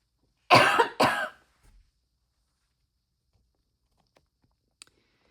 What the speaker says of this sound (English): Sorry, I'm going to cough here.